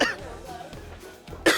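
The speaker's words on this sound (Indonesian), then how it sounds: "Kenapa lu yang batuk?" A person coughs close by, with a short harsh burst at the start and another at the end over faint background noise, in an Indonesian comedy classroom scene.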